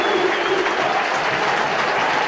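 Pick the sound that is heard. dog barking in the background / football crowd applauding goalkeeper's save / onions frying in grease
football crowd applauding goalkeeper's save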